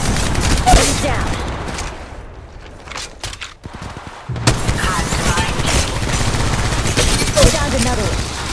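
Loud, close bursts of automatic gunfire in Apex Legends Mobile, heavy rattling volleys at the start, a brief lull, then sustained firing again with sharp impacts over busy game sound.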